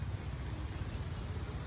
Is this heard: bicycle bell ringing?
no